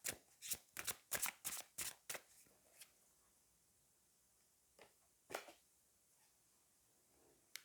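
A tarot deck handled at close range: a quick run of crisp card flicks and riffles in the first two seconds, then quiet with a few scattered single card snaps later, with no talking.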